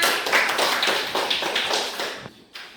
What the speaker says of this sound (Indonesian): Tepuk tangan sama kawannya.